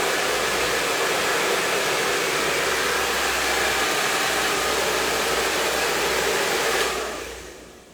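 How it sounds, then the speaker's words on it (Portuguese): Loud, steady rush of a hair dryer blowing while hair is styled in a salon, a constant close airflow hiss that drops off near the end, with no talking. "Quando eu uso o secador, só vai aparecer um barulhinho para nós"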